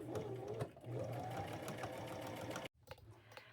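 A sewing machine runs steadily as kitchen towel appliqués are sewn onto a jumper, a close mechanical whir with a brief pause near the end before it starts again.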